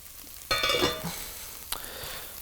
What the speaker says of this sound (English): So these onions have been cooking for about 12 minutes now.